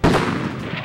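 A tank's main gun fires at a target in a single loud, booming blast that rolls on with a heavy rumbling tail.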